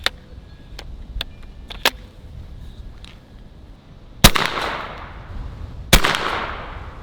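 Airgun fired through a chronograph: two sharp, loud cracks a couple of seconds apart, each trailed by a short decaying rush, after several lighter clicks and taps.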